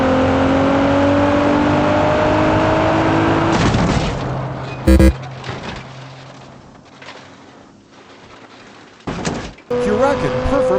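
In a BeamNG.drive high-speed overtake test with a McLaren 765LT and a Nissan GT-R, a car engine roars and revs loudly before cutting off abruptly. Sharp crashes and bursts of rising revs follow.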